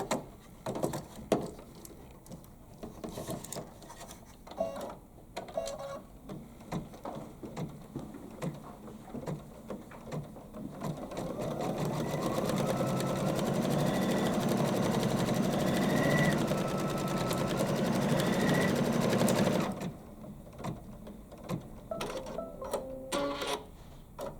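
Embroidery machine stitching a small placement line for a crown on a quilting project, with a steady, close mechanical whir and rapid needle ticking that runs alone for several seconds after scattered clicks.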